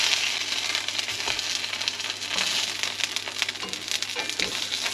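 M&S duck burgers sizzle steadily in a frying pan, a continuous close crackle and hiss with small pops scattered throughout and no talking.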